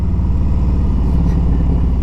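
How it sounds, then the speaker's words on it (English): The Milwaukee 8 engine of a 2017 Harley-Davidson Road King Special runs loud and close at a steady idle, with a deep, even, lumpy throb and no other sounds. "is the Milwaukee 8 engine."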